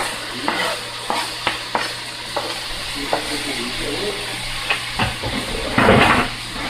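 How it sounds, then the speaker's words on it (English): Ground beef fries in a pot with a steady hiss, and a spoon stirs it with periodic scraping knocks. The sizzle swells louder near the end. "Alright, so I'm going to add my ground beef back to my pot."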